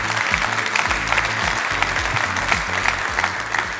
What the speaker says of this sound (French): On applaudit Antoine Fouché.